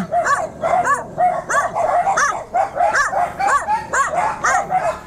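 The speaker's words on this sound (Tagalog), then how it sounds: "Grabe sa aso dito." Several guard dogs bark and yip repeatedly in a quick, uneven rhythm, loud and close, with some whimpering mixed in.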